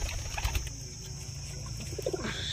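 A Pakistani Golden pigeon coos softly with low, repeated throaty notes, faint against background noise and a steady high hum.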